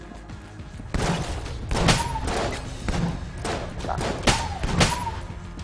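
Rapid video-game gunfire from Enter the Gungeon, bursts of shots and thuds repeating throughout at close, loud level, with a brief spoken word over the action.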